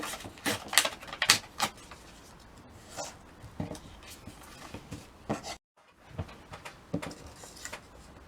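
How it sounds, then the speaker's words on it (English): A book page torn by hand for a rose-decorated book page pocket craft: a run of crisp, close ripping bursts in uneven rhythm, a brief pause, then a few softer tears, with no talking. "then we can just cut this, or I should say tear it"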